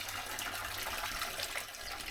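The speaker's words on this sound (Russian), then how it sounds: "А в этой избушке у нас родник." Water from a spring housed in a small hut near the Korovka River in Rybinsk runs in a steady, even stream, close and continuous with no voices.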